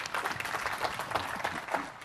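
An audience claps together during a session at Build 2013, a developer conference on building SharePoint 2013 apps with Visual Studio 2013; the applause is dense and steady throughout, with no talk over it.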